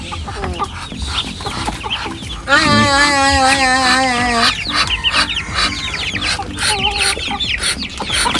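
Desi chickens and roosters at a small farmhouse garden in Manikganj cluck steadily while being fed, with one loud rooster crow partway through and people talking nearby.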